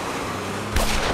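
Gunfire in the video game Lost Horizon: dense, continuous crackling shots with a heavier blast near the end, loud and close, no talk over it.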